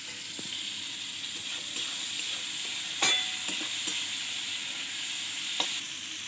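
Taro being fried in hot oil in a home kitchen pan, a steady close sizzle with scattered sharp scraping clicks of stirring, a few louder knocks, no voices.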